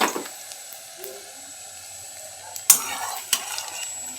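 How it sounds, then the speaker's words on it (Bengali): Brahmi greens and masoor lentil fritters frying in a pan over low heat, a soft steady sizzle with a couple of sharp clinks of a utensil against the pan partway through. "লো আঁচে রেখে এটাকে বড়াগুলোকে দিয়ে ভালো করে ভেজে নিতে হবে"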